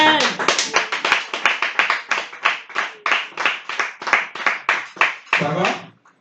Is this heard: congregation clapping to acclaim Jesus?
yes